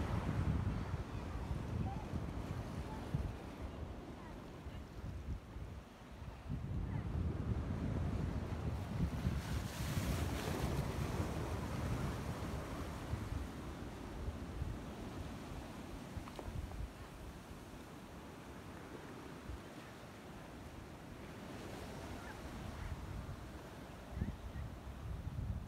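Winter surf breaking on Millendreath Beach in Cornwall, a continuous rolling wash of waves with strong wind buffeting the microphone, loudest at the start and swelling again midway.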